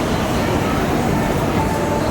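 Netaji Express stands at a Delhi station platform, where a dense low rumble of train and station noise fills the air, steady and close, with faint talk mixed in.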